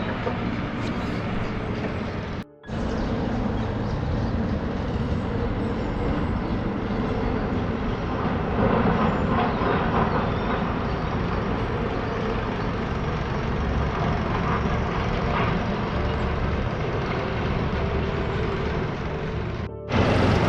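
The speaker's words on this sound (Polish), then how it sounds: "Widać jak z urobkiem ciężki sprzęt właśnie w tym miejscu wjeżdża do góry." Heavy quarry equipment loaded with spoil climbing a steep slope, a continuous loud engine drone and rumble lasting the whole stretch, with two brief dropouts.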